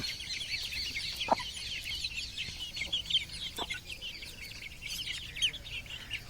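Chickens cluck and chirp continuously at moderate distance, overlapping calls with a few sharper squawks, no talking.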